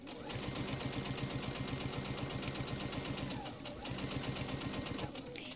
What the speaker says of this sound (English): So we're going to sew 1/4 inch either side of the marked line.